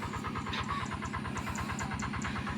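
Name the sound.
engine of shallow tube well irrigation pump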